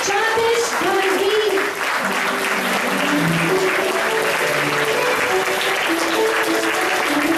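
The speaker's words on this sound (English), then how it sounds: "give it a big round of applause to great Dr. Jagdish Gandhi" A standing audience at a speech event gives a big round of applause, a loud continuous roar of clapping with some voices mixed in.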